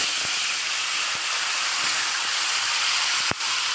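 Rohu fish head rubbed with salt and turmeric fries in hot oil, giving a loud, steady sizzling hiss with a few sharp pops and crackles and no voices.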